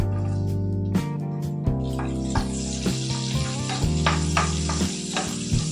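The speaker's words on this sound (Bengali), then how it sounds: "তেলটা গরম হয়ে গেছে। এবার রসুনের কুচিগুলো দিয়ে দিলাম।" Minced garlic sizzles in hot white oil in a pan, a steady loud frying hiss with occasional clinks and stirring knocks, no talking.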